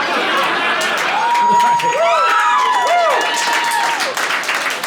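A comedy special audience cheers and claps in a dense, steady roar from a large crowd, with whoops and voices rising over the applause throughout.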